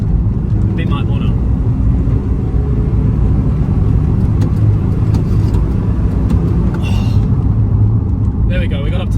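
A 2002 Toyota Echo's engine drones loudly from inside the cabin, a steady low rumble without a clear rise in pitch, with brief faint sounds over it.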